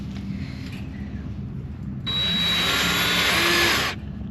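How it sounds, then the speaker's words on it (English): A handheld power drill whines steadily for about two seconds, boring into a mobile sheep enclosure during a repair, close and loud over faint background noise, then stops. "Drill it straight in."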